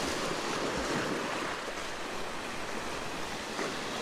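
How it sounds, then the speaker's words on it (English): Ocean waves break over a rock along the shore, a steady, full roar of surf and rushing water that stays loud and continuous with no pause, and nobody speaks. "this is where I do need the wave crashing over the rock to get that waterfall effect"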